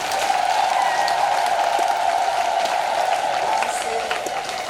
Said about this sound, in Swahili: Naomba tumpongeze kwa makofi na vigelegele.